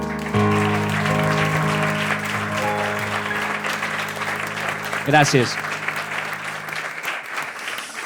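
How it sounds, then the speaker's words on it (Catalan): A crowd breaks into sustained clapping that fills the whole stretch, with a voice briefly speaking over it midway. "Un aplaudiment."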